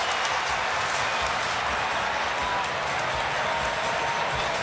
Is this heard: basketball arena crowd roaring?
yes